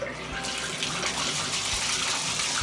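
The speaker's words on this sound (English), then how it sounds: "So now we turn the water back on and we're gonna give it a test." Water gushes steadily from a tap turned back on, a loud, continuous rushing stream without pause.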